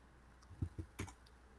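Sparse keystrokes on a computer keyboard while working in a shell terminal, a few quiet taps with one slightly louder key press, faint and close, no talking.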